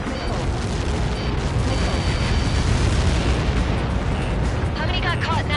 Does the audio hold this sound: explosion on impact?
yes